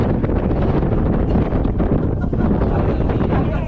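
Wind buffets a cable car high over the mountain forest near Sapa, a loud, steady roaring rumble that fills the whole stretch without pause.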